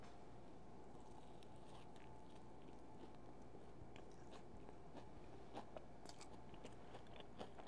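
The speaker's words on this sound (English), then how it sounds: "let's take a bite." Crunchy bites and chewing into toast topped with homemade sprouts and guacamole, quiet and close, a series of crisp crunches and soft mastication with no talk.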